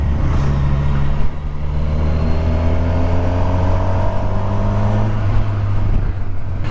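A Kawasaki Versys 1100 SE motorcycle's engine hums steadily while riding, with a low droning tone and smooth rising pitch, joined by constant wind rush and no voices.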